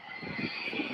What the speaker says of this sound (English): Another airplane taxiing out